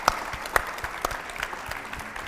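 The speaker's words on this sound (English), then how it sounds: "Round of applause." Audience applause at a commemoration in Leicester for the sinking of the SS Tilawa, sharp distinct claps standing out over a steady patter of clapping, moderately loud and close.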